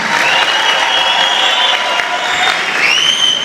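Loud, warm applause from a crowd at a Bonga University graduation ceremony, dense continuous clapping that holds steady throughout with some cheering mixed in.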